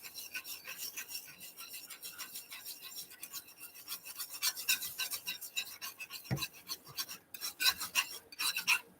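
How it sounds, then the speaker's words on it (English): Palette knife being wiped off on a piece of fabric, a series of soft dry scraping and rubbing strokes at close range, irregular in rhythm and fairly quiet, with no talking. "I'll just wipe the palette knife off on the"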